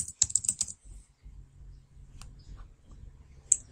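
Brief bursts of computer keyboard typing, a few quick close clicks at the start and one near the end, separated by quiet room hum, with no speech.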